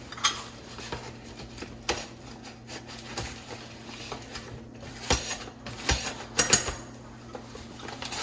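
A metal knife scrapes and taps against a flour-filled measuring cup in a home kitchen, a series of light irregular clinks and scrapes with quiet gaps between them.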